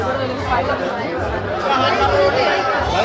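Dense crowd chatter fills a busy temple fair at Ekvira, a steady, close babble of many overlapping voices with no single speaker standing out, slightly louder toward the end.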